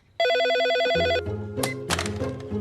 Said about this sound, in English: the phone rings and it's reception